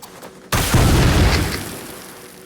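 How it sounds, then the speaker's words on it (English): A bomb detonating in the video game Assassin's Creed Shadows: a sudden loud boom after a short quiet lead-in, followed by a rumbling blast tail that slowly fades over two seconds. "those bombs are incredibly powerful"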